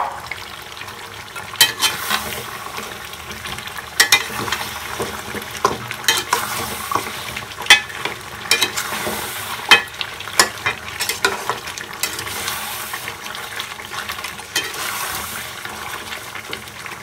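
Beef trotters sautéing in a pot for nihari, with steady sizzling and frying hiss broken by repeated scraping, clanking stirs at irregular intervals, close and fairly loud, with no talk.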